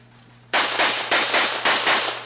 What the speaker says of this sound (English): So Ed was shooting a little out of control here.